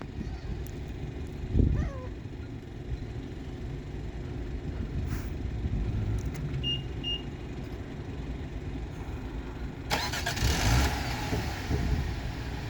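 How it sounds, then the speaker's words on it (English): A 2024 Mini Countryman JCW engine runs after a remote start, a steady low idle hum outdoors with a brief louder swell near the end, no voices. "There it is, it's now running."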